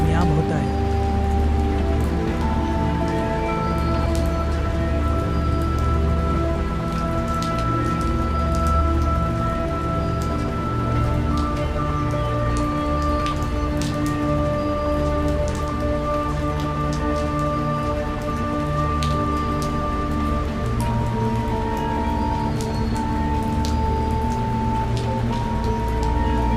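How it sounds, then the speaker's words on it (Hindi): Heavy, pouring downpour beating on surfaces, a dense continuous roar of rain that lasts throughout with sustained musical tones running beneath it. "इस मूसलाधार बारिश में मुझे अपने घर में पनाह देकर"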